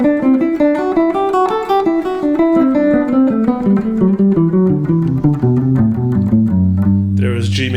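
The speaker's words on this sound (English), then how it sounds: "So playing the scale in thirds would sound like this" A major scale played in thirds on a pitched instrument, paired notes stepping evenly through one key and then moving into others, loud and clean with no voice over it.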